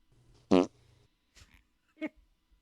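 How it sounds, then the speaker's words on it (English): A short, loud fart sound bursts out once, followed by two fainter sputtering noises in otherwise near-silence. "I'll always love the fart."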